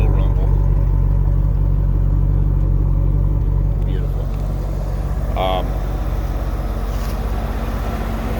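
A 1996 Corvette with the LT4 V8, Z51 package and six-speed, idling with a steady, low, even rumble that stays loud throughout, with a brief faint chirp partway through.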